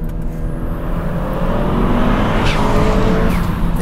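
A turbocharged Honda Civic sleeper build with an electronic wastegate runs steadily and loud, a continuous close engine drone that rises slightly in pitch with no speech.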